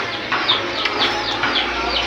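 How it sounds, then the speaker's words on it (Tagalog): Chicken clucking in short repeated bursts, moderately close, with faint background noise and no talking. "Manok ra ba na?"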